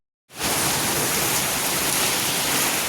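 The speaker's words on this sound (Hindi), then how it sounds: "हमारे तो होने लग रही है बारिश, और सही तकड़ी मूसलाधार बारिश है भाई" Heavy torrential rain bursts in suddenly and pours down as a dense, loud, unbroken hiss around a home, close and steady with no talk.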